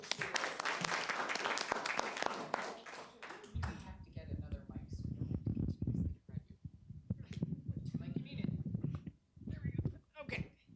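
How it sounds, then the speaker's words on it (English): An audience at a city council meeting applauds with dense clapping for a few seconds, then it fades and people talk in the room. "Give her a round of applause."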